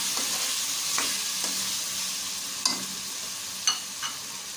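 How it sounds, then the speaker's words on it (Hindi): Potatoes fry in a pot with a soft, constant sizzle, broken by a few sharp scraping clinks of a spoon stirring at irregular intervals; no one speaks. "हमने अपने पोटैटो जो है फ्राई कर लिए।"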